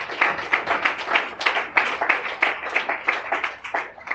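Church congregation at a Sunday morning service applauding, steady close hand clapping in a quick rhythm from a crowd, sustained and fairly loud with no talking.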